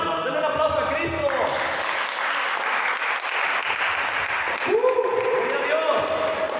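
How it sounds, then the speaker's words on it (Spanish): A church congregation breaks into loud, sustained applause that fills the room, with a voice calling out over the clapping at the start and again near the end. "Denle un aplauso a Cristo"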